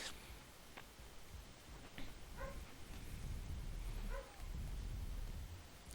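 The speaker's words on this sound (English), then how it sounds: "That's my dog in the background if you can hear her." A pet dog barks and yips in the background of an indoor room, a few faint, spaced calls under a steady hum.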